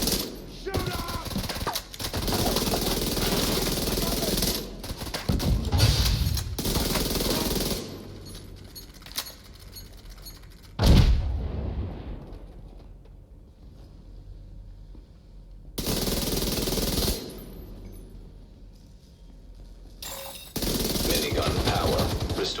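Video game minigun fire in long rapid bursts that start and stop several times, loud with quieter pauses between, mixed with game effects and brief shouted talk.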